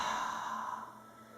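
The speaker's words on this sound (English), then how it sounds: "when you breathe out, I want it to all come out of the mouth" A single long, audible exhale out through the mouth, breathy and close, fading steadily over about a second during a teens' exercise class.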